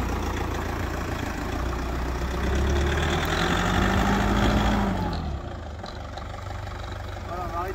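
A 4x4 engine revs up while climbing a slope towing a caravan, a loud, steady mid-range drone that rises in pitch, peaks, then drops back toward idle, with a voice talking over it.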